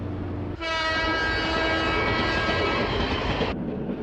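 A cartoon train pulls into a station, a steady loud rumble with bright tonal whistle-like harmonics that starts abruptly, holds for about three seconds and cuts off, leaving a quieter rolling noise underneath.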